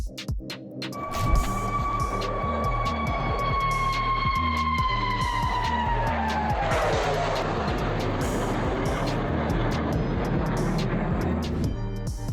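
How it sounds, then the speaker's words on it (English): Loud F-35 single-engine supersonic stealth fighter sweeping past, a sustained roar with a falling whine as it goes by, steady broadband rumble continuing afterward. "Watch the F-35 Supersonic pass by."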